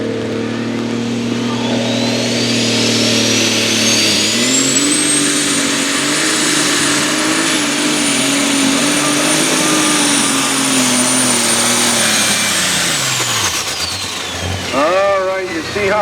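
Patriot 1066 International Super Stalker pulling tractor with a 504 cubic inch twin-turbo engine roaring loud and close in a sustained run, a high turbo whine rising and holding before it winds down, with an announcer talking over it.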